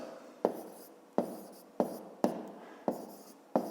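Pen strokes on paper while writing out a maths explanation: six distinct scratchy strokes, each a quick sharp onset that fades, spaced roughly evenly, close and quiet with no voices.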